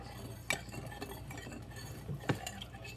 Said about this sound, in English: And you stir it